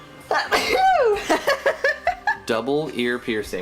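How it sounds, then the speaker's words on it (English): A single sharp sneeze, close and loud, bursts out at the start. A person then talks and chuckles briefly. "even though you sneezed away from the mic, it still picked it up"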